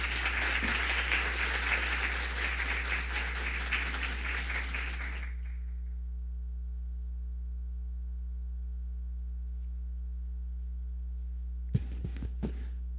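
Audience applause at a university architecture presentation, a dense wash of clapping for about five seconds that stops abruptly, followed by near silence with a steady hum and a few brief knocks near the end.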